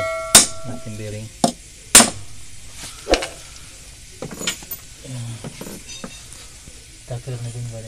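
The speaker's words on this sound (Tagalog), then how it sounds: "Kailangan natin ng martilyo" A hammer taps a bearing into place on a seized car alternator under repair, giving a few sharp, separate metallic knocks at uneven spacing with quieter clinks and shuffling between them.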